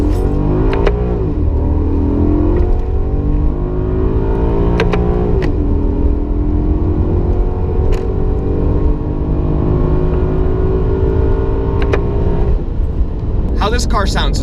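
Engine note of a 2009 Maserati Quattroporte S with a 4.7-litre V8, revving on a downshift as a sustained, loud throaty drone with rising and falling pitch throughout, with a few brief sharp clicks.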